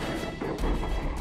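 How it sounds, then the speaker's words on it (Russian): A car trailer tips over onto its side on a road with a loud, heavy crash and a clattering thud. A brief rumbling impact follows, with no voices present. "Все, он грохнулся. Он чуть не утащил машину за собой."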